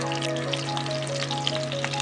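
Chicken pieces fry in a hot pan for a black pepper kebab, giving a steady, close sizzle with faint crackles throughout and no talking.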